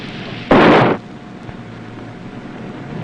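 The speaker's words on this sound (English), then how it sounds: "Fire that rocket!" A signal rocket fired from a vessel at sea, one loud whooshing burst lasting about half a second over steady wind and engine rumble.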